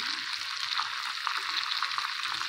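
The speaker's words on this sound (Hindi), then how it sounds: "अब इसमें अदरक लहसुन का पेस्ट डालेंगे" Ginger garlic paste frying with chicken in a karahi, a continuous close sizzle with light stirring noises and no voices.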